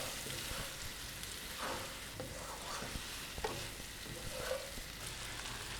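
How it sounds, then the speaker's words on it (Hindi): Cauliflower with whole masala spices frying on a low flame, a soft steady sizzle with scattered scraping and stirring sounds from a spoon, close but gentle, no speech. "तमाम इंग्रेडिएंट्स डालने के बाद हम इसको अच्छी तरह से मिक्स कर लेंगे और 5 से 6 मिनट तक हम इसको हल्की आंच पर भून लेंगे"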